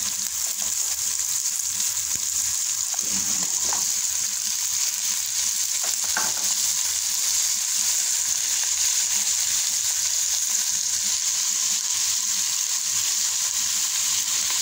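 String beans are added to a frying pan just used for fish and fry with a steady, loud sizzle throughout, broken by a couple of brief utensil clatters early on.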